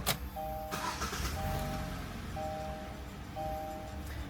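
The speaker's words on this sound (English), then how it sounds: "just start the car" Engine of a Kia Cerato turns over and settles into a low, steady idle, heard fairly faintly from inside the car, with a brief click at the start and a repeating electronic chime over the idle.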